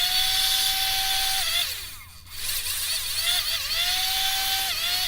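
A heat gun warms a Talon grip fitted to a handgun, giving a loud, close, steady whirring motor whine over rushing air hiss. Its pitch sags and briefly drops out midway before resuming. No one speaks.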